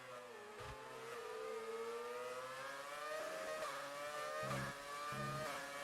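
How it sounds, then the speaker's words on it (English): An F1 2019 race car engine in a video game screams at high revs, climbing steadily as it stretches out each gear, with a few quick shift breaks, loud and close throughout. "really stretching out those revs. No short shifts coming through from him"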